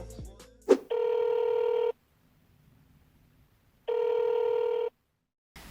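A telephone rings for a phone interview call: two loud, steady electronic ring bursts about a second long, separated by a few seconds of silence, with a brief voice and shuffle just before the first ring.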